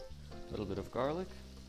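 Garlic sizzles in a frying pan alongside purple cod and chard, a soft, close frying hiss under a voice that speaks briefly.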